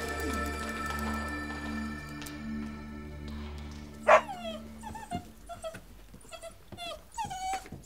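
Young eight-week-old puppies whimper and whine in high, wavering cries, several short yelps and whines in a row starting midway, over a steady low background hum.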